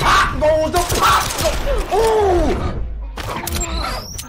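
A grenade explodes in the Injustice 2 fighting game, set among dense bursts of gunfire-like effects, creaking mechanical clatter and whooshing game sounds over a few seconds, with a brief quiet gap before more hits.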